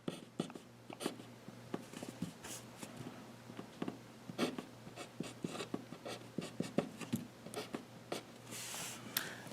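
A pen scratches steadily across a surface while a chemical structure is drawn out during a chemistry lecture, a faint, continuous stream of short strokes and taps over a low background hum, with no voice.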